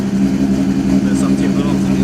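A tuned Toyota Supra engine holds a steady, loud, throaty rumble close by, with no clear rise in revs over the short stretch.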